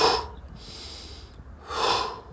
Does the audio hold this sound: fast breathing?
yes